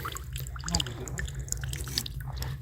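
Water, collected as non-drinking water outdoors beside a hand-built dugout, drips into a container in irregular small plinks over low background rumble, close and faint.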